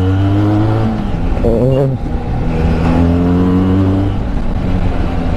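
A Benelli 302R motorcycle engine revs loud and close while riding, its pitch climbing and dropping through gear changes, with wind rush and a brief voiced exclamation over it.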